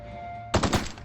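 Gunfire in The Outer Worlds, silent for half a second and then a loud rapid burst of about three or four shots.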